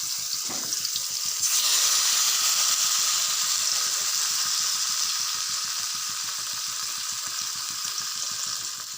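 Pieces of rohu fish fry in hot oil, giving a loud, close, continuous sizzling hiss that swells just after they drop into the pan and holds steady, with a faint rhythmic rattle underneath.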